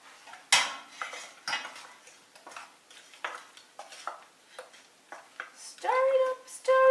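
A spoon stirs cherry fruit pie filling in a bowl, clinking and scraping against the sides in uneven close strokes, with a voice speaking briefly near the end.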